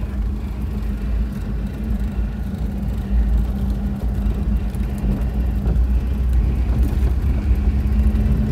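A manual car's engine rumbles steadily from inside the cabin as the gas pedal is pressed gently while driving, a low continuous drone with slight swells and no speech.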